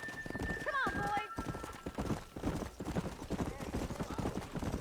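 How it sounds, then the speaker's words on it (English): Horse hooves clip-clop at a gallop in the western video game Red Dead Redemption, with a whinny near the start and steady rhythmic hoofbeats under game speech and ambience. "Cara, o cavalo aqui é muito rápido."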